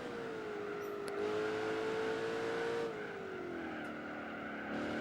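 A 350-horsepower V8 car in Gran Turismo 4 drones at a steady pitch, dips as it shifts or slows, then holds a lower tone, with a hint of tire squeal.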